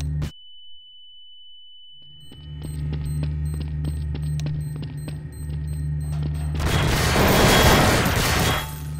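In Counter-Strike: Source, a steady beeping tone and scattered sharp gunfire lead into a loud, broad grenade explosion near the end that roars for about two seconds before fading.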